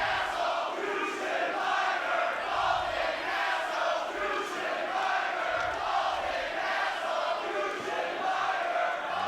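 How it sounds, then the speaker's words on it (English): A partisan wrestling crowd at a Reloaded Tour show in Duluth, Georgia, cheering and roaring in a continuous dense wash of noise throughout, with no clear talk on top. "Partisan crowd, though."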